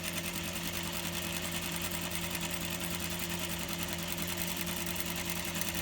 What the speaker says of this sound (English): I'm gonna sew forward and back stitch.